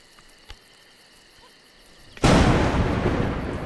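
Thunder crack in the video game A Juggler's Tale: after quiet ambience with a faint pop, a sudden loud broadband burst erupts and holds as a sustained rumbling roar, like a storm breaking close by.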